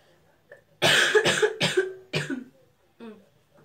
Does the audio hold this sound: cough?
yes